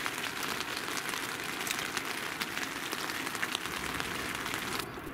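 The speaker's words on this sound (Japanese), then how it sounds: "さすがにずっとなんか雨がポタポタ降ってて" Steady patter of rain dripping and tapping on tent fabric at a rainy riverside campsite in winter, a dense, continuous hiss with small irregular drops, close and even, with no voices.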